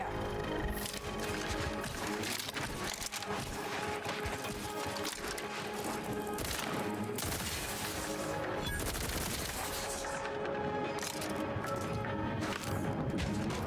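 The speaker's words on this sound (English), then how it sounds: "The sniper shot was right on it and the shots just went somewhere else." Sniper rifle and other gunfire in The Outer Worlds 2 on PC: loud, rapid volleys of sharp overlapping shots and impacts that keep going for about fourteen seconds, with brief dips between bursts.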